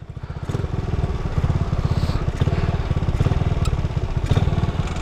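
A motorcycle in poor condition idles nearby with a steady, rapid low putter and faint clatter, running continuously without talk over it.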